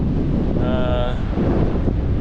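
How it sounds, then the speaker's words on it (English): Steady wind buffets the microphone throughout, a constant low roar with a brief tonal whistle partway through, near the Cirque of the Towers mountains. "A bit windy."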